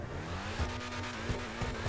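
The LM87 race car engine in the off-road racing game TORC revs as a steady, fairly quiet drone whose pitch slowly climbs, with faint tire and track noise underneath.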